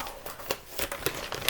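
Scissors snipping and crinkling through a mail package, a quick run of crisp cuts and rustling paper or plastic, close and fairly quiet with no talk.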